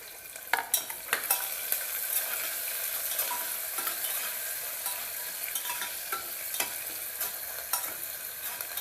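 Onion and whole spices sautéing in a pan for chicken pulao: a bright, steady sizzle broken by repeated scraping clinks of a spoon stirring against the metal, close and clear, with no talking.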